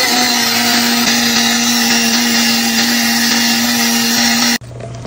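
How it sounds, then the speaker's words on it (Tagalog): A blender whirs steadily, loud and close, mixing frozen strawberries with fresh milk and a little honey into a smoothie, then cuts off abruptly near the end, leaving faint room noise. "Saka ako naman i-blender."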